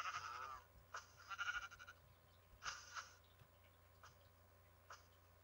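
Sheep in Minecraft bleating several times in short, nasal calls, close and clear over a faint low hum, with quieter bleats trailing off near the end.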